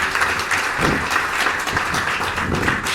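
Listeners clap for Rachel, a guest speaker at an industry case-study session, a full, continuous round of applause from a sizable audience that stays steady and fairly loud across the moment.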